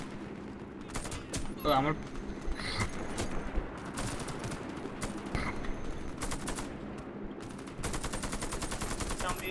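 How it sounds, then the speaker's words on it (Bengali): Heavy machine gun fire rattles in an online shooter game, repeated loud bursts of rapid shots with a steady stream near the end, while a player talks over it. "They've manned the heavy machine gun."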